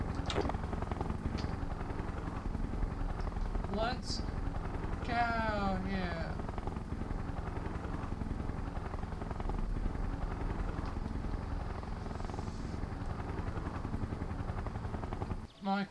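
Video game helicopter flying steadily with a continuous low rotor and engine drone throughout, with game voice dialogue heard over it.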